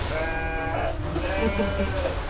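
Sheep bleat on a sheep farm, several overlapping calls in a row, close and loud over steady background noise.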